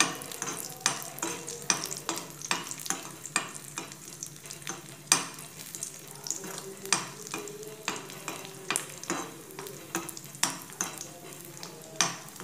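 Cashews and raisins fry in ghee in a pan for coconut-milk banana, with a steady close sizzle broken by repeated sharp scrapes and clicks of a spoon stirring against the metal, and no talking.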